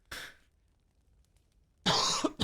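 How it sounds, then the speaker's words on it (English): A person coughs twice, a short burst near the start and then a longer, harsher run of coughing toward the end, with near silence between, close and loud, shortly after eating. "Me coughing there was because I had just been eating."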